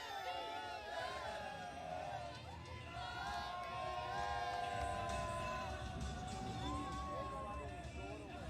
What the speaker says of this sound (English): That is a good crowd enjoying themselves.